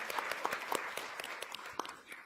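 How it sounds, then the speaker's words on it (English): A smallish audience applauds the LISC Detroit team at a Michigan Chronicle Pancakes & Politics event, with scattered, fairly quiet claps popping out of a soft bed of room noise. "Come on, give them a round of applause."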